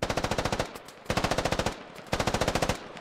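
Gunfire in the military shooter game Squad comes as three long bursts of rapid automatic fire, each a fast even string of sharp cracks separated by short gaps.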